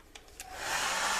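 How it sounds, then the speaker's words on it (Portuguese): Hair dryer blowing over a polymer clay (biscuit) piece with a pearl chameleon finish; a couple of faint clicks, then the airflow rises into a steady, loud whooshing hum. "Vamos passar o secador."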